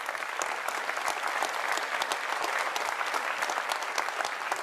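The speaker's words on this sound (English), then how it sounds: "it wasn't just the media applauding that, what I said there" Sustained applause from a crowd at the Labour manifesto launch, dense and even clapping throughout at a moderate, slightly distant level.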